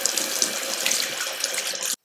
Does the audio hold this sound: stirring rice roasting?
no